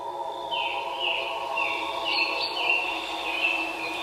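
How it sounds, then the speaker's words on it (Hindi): A white bird chirping in a tree, heard as repeated sweeping chirps and tweets over a soft, steady background hum, moderately close and fairly faint. "और उन्होंने एक दरख्त पर सफेद परिंदे को चहचहाते हुए सुना।"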